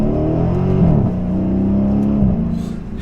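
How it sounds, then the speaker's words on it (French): The naturally aspirated 6.4-litre V8 of a Dodge Challenger R/T rumbles and revs close by, its deep throaty growl rising and settling in pitch, loud and continuous with no talking. "ma Challenger au son du V8 6 litres 4 atmosphérique"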